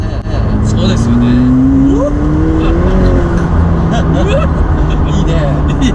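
A McLaren 720S twin-turbo supercar accelerates hard around a race circuit, its engine note rising steadily in pitch over several seconds with a broad roar, while people talk over it.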